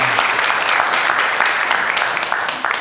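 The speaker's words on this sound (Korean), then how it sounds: "우리 영광의 박수를 우리 하나님께 올려드리겠습니다" Congregation applauding during a Sunday morning church service, steady sustained clapping from many hands close to the microphone, fading slightly toward the end.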